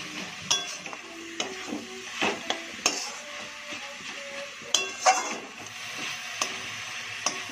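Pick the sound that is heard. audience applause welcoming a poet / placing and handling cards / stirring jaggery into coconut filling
stirring jaggery into coconut filling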